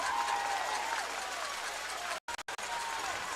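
A crowd of spectators at a regional final baseball game claps and cheers in a loud, sustained wash, with a few abrupt dropouts near the end and a voice talking over it.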